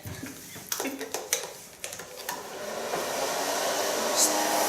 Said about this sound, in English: blow drying the hair.